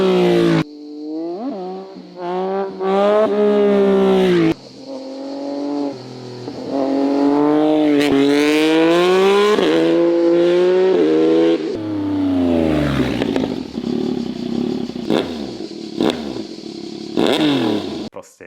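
A Yamaha MT-09 SP three-cylinder motorcycle with a tuned aftermarket exhaust revs hard and accelerates through several gears, loud and close, with a raspy, rising engine note and brief drops between shifts.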